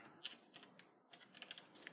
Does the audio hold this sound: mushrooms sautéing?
no